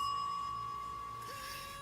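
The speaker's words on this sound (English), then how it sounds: "this is a bell" A bicycle bell gives a single bright ring that decays slowly, fairly faint and alone with no talk over it.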